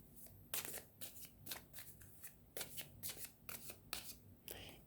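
Playing cards riffled and shuffled for a tarot-style reading, a run of crisp, quiet ruffling bursts coming in uneven clusters, close up with no talking.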